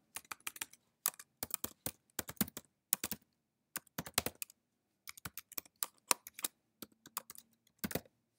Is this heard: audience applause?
no